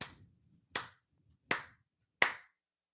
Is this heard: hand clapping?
yes